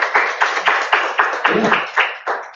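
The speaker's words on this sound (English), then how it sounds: "So, can we please give them one last round of applause?" A live audience applauds panelists at a Black Students in CS panel event, a steady run of rhythmic hand claps pulsing close and fairly loud, with a brief spoken word mixed in.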